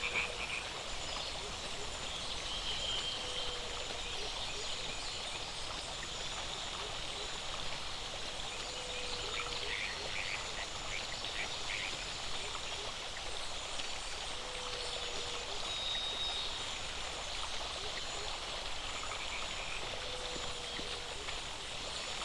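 Repeated short chirps from a small creature in the video game The Isle at regular intervals over a steady, rushing water-like background hiss.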